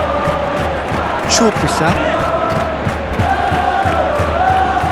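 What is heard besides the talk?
football stadium crowd cheering in a video game simulation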